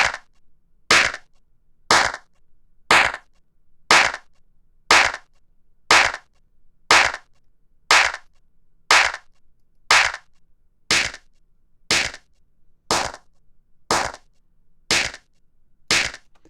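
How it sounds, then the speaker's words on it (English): A single sampled clap repeats about once per second, sixteen crisp, isolated hits with near silence between them; the tone shifts slightly from hit to hit as it is equalised. "So we have a clap here."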